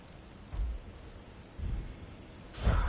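Storm sounds in God of War Ragnarok in Alfheim's desert: steady rain hiss with three low thunder rumbles rolling in at intervals, the last one strongest.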